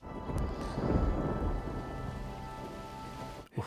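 Heavy rain hisses steadily across a film scene while a low rumble of thunder rolls beneath it, building early and fading, with a sharp crack near the end; no speech.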